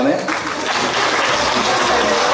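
Guests at a Ukrainian wedding celebration clap for the newlyweds, a dense, steady wash of applause that fills the room for a couple of seconds, with voices mixed into the noise.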